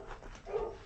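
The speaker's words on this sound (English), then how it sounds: "I apologize for the dogs. They're probably going to be barking for a moment." Dogs barking in a house, a couple of short muffled barks and a whimpering yip, somewhat distant and moderately quiet.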